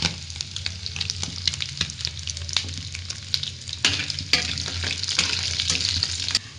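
Potato pieces fry in hot oil in a home kitchen until golden, giving a steady, close crackling sizzle broken by frequent sharp pops and stirring clicks, with no talk.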